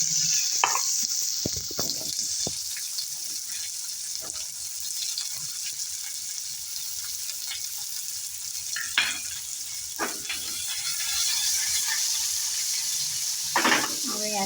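Finely chopped dried onion sautés in a pan with a bay leaf and a dried red chilli, a steady bright sizzle and hiss with occasional scraping stirs and knocks of a spoon, close by.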